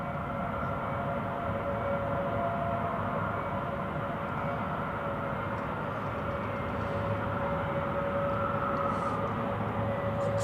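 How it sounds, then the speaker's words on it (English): Boeing 767 jet engines at Zurich Airport during taxiing, a steady distant roar with a constant whine, continuous and even throughout without voices. "I hear the classic engine sound of a Boeing 767"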